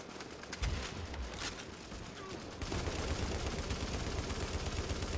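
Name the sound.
M60 machine gun firing in video game The Division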